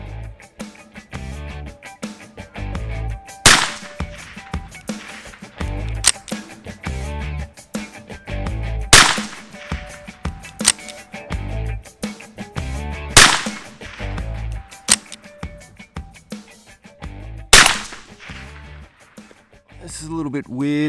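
Shots from a CZ 515 rifle in .22 WMR, four sharp loud cracks spaced a few seconds apart over steady talking throughout.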